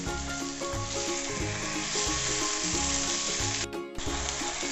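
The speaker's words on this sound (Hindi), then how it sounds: "और अब हम चिकन को फ्राई करेंगे।" Large pieces of chicken frying in a pan, with a loud, continuous sizzle and crackle of hot oil, plus occasional stirring scrapes, heard close up and alone.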